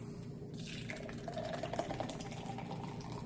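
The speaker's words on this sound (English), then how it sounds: "All right, let's hard pour this one." Belhaven Black Scottish Stout nitro beer being hard poured into a glass, a soft close gurgling, fizzing pour of liquid that swells briefly and carries on quietly.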